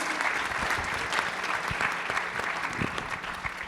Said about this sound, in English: a big applause for all our panelists today before we go to questions